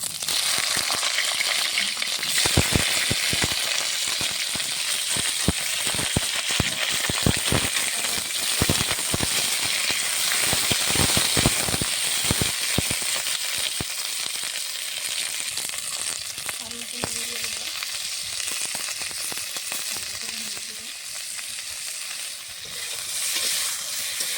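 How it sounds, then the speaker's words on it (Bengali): Nigella seeds and cut pointed gourd fry in a pan, a loud, close, continuous sizzle with crackling pops and stirring clatter that gradually settles into a softer hiss. "দিয়ে দেবো কটা কালো জিরে, দিয়ে দেবো কেটে ধুয়ে রাখা পটল"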